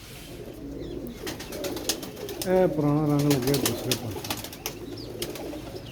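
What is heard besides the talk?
pigeons cooing and flapping wings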